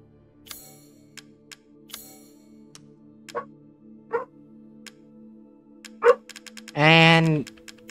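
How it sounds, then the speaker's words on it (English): Dogs bark in a video game, a few short separate barks spaced across the clip over a steady droning background, ending in a louder sustained sound. "people are messing with the doggos, and now they're barking"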